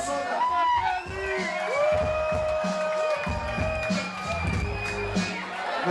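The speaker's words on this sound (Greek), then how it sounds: "Ένα χειροκρότημα" A concert audience cheering and whooping for the console operator at a show, crowd shouts and cheers rising and falling over a sustained musical backing.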